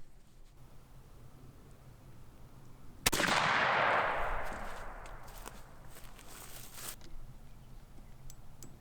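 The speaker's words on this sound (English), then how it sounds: "we're gonna take another shot and see what it looks like." A single blast rings out from a Mossberg 500 20 gauge pump shotgun fired outdoors at a pattern target about 15 yards away. It is one sharp report with a long decaying echo, set against quiet ambient noise, and no one speaks.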